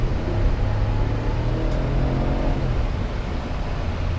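The engine of a 2020 Ram 1500 Rebel pickup with an 8-speed automatic, rated at 385 horsepower and 410 lb-ft, drones and rises under acceleration, heard steadily from inside the cab with road rumble, no speech.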